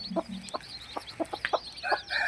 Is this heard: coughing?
no